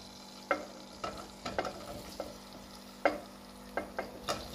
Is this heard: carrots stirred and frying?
yes